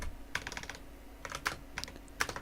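Someone types code on a computer keyboard, with quick bursts of clicky keystrokes separated by short pauses, heard up close and quiet, with no talking.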